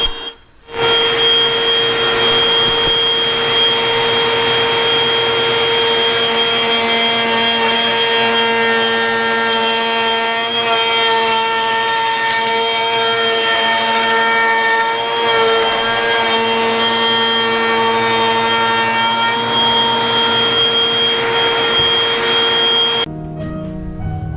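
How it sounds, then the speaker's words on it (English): A router fitted with an ogee bit cuts a decorative edge into the wooden top of a curved blockfront lowboy. Its loud, steady, high-pitched motor whine runs almost nonstop and cuts off abruptly near the end. "Putting an edge on with an ogee bit in the router, it'll take 3 passes."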